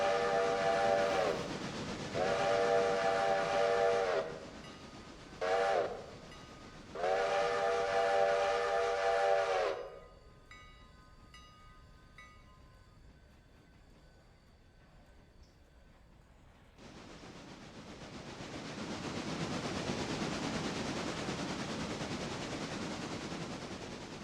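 A train in the Railroader video game sounds two long steam whistle blasts separated by a short toot, then idles with faint clanks before a broad rumbling roll starts as it pulls into the rail yard.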